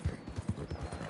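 Horse hooves clip-clopping at a steady gait in Red Dead Redemption 2, a run of about ten soft, low thuds over roughly a second, with a faint whinny mixed in under a steady background.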